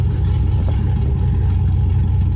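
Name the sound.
gas truck exhaust revving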